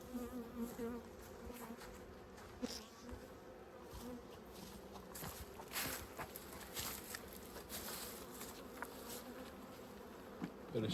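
Honeybees buzz steadily inside an open hive being fitted with a shim and second box, a dense close drone with scattered clicks and small knocks from frames being handled.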